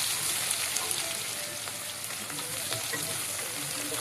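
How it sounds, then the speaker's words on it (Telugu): Onions frying in hot oil with whole spices such as cardamom, star anise and mace for a mutton gravy, giving a steady, dense crackling sizzle with faint stirring scrapes and no talk. "ఇప్పుడు కొంచెం ఫ్రై అయిన తర్వాత ఆనియన్స్ వేయండి"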